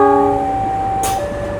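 Local train hauled by a CC206 locomotive on the short Surabaya to Probolinggo run, sounding a steady multi-tone horn that cuts off, with a brief hiss and continuous rail rumble underneath.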